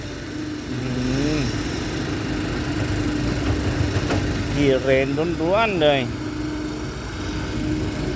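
A tractor digging a new pond, its engine running at a steady mid-pitched drone throughout, heard under people talking nearby.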